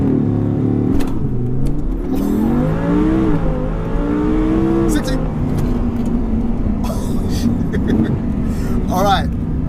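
An Audi R8 V10 Plus revs hard and launches from a standstill, its loud engine note sweeping upward through the gears, with people talking over the run.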